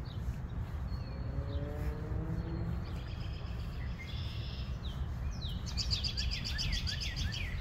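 Several birds call and chirp from trees just coming into leaf in early spring, with short whistled phrases and trills scattered across the clip over a steady outdoor rumble, no voices.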